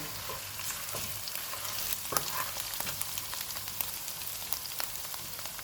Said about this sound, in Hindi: इनमें 1 टेबलस्पून अदरक और लहसुन का पेस्ट डालेंगे और इसको 1 मिनट तक भूनेंगे।